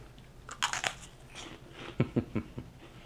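Crunchy meringue cookie bitten and chewed up close, a crisp snap followed by several quick crunching chews, with no talking.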